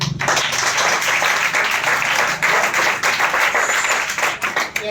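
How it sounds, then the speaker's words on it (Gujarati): A group claps together in a dense, continuous round of applause lasting several seconds, loud and steady without voices. "તાળીઓ પાડો ભાઈ, ચલો."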